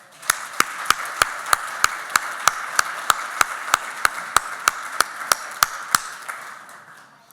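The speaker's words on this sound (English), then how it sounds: "I would like to give a round of applause" Guests at a Rotary club meeting receive a short round of applause, a room of hands clapping steadily with sharp, evenly spaced claps standing out before the sound tapers off.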